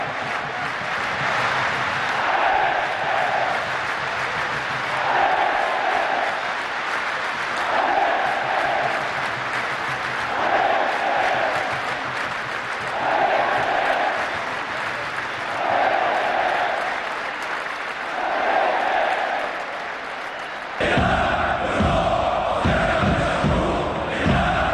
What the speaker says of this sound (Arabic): يلا نسمع الجماهير